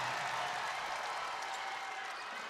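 Crowd applauding seniors in an arena at a women's college basketball game between NC State and Virginia Tech, a faint, distant, steady wash of clapping and crowd noise.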